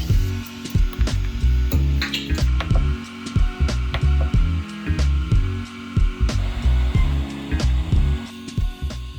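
A 3D printer prints a custom motorcycle part prototype, its stepper motors whirring and buzzing in a busy, continuous rhythm of short moves, close and steady throughout with no talk.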